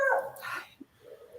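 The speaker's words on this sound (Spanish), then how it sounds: "Los perritos de Eugenia despidiéndose del programa." Small dogs whimpering and yipping up close, a high whining cry at the start followed by a short bark and softer whimpers trailing off.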